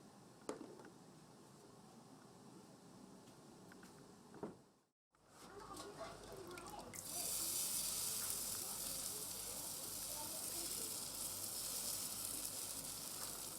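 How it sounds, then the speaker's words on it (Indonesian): Ragit batter of wheat flour and egg sizzles on a flat pan as it is drizzled in a net pattern, a soft steady frying hiss that briefly drops out, then returns louder and brighter. "adonan dimatangkan atau didadar di atas wajan datar dengan dituang secara tidak beraturan hingga melingkar memenuhi wajan dan membentuk layaknya jala"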